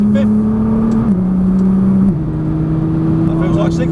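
Nissan GTR engine pulling at full power on a race track, a loud steady drone that dips in pitch as it shifts gear, with a voice talking over it.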